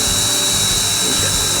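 A power drill whines continuously at close range, boring an eighth-inch hole in a Bass Tracker boat, a steady high-pitched motor drone with slight shifts in load as it bores.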